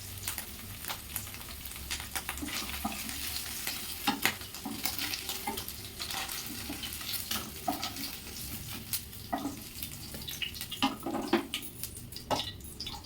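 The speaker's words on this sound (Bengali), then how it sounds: "প্রথমে আমি আলুটাকে ভেজে নেব" Potatoes fry in hot white oil in a wok, a steady quiet sizzle broken by frequent scraping stirs and little spatters and crackles throughout.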